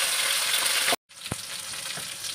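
Spices, dried red chilies, small onions, curry leaves and garlic sizzle loudly in hot oil, a close, steady crackling hiss that cuts out briefly, then resumes with a soft stir.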